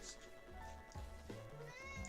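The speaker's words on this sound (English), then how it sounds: "Cat." A cat meows close by in a short, clear burst, with a person speaking over and around it indoors during a podcast recording.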